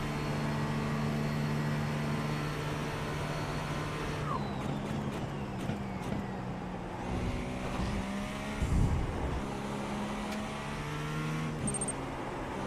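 Simulated GT3 and GTP race cars lapping Spa in iRacing, a steady engine drone with shifting harmonic tones throughout, a rougher surge near the middle as another car closes in, no talking over it.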